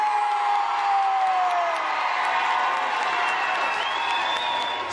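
Audience at a dance competition cheers and whoops steadily, a continuous loud crowd roar with scattered high shouts and clapping blended in throughout.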